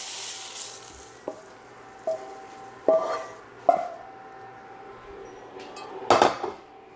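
Peppers sizzle softly in a hot pan for japchae while a utensil scrapes and taps against the pan several times, a few sharp clinks spaced over a quiet frying hiss.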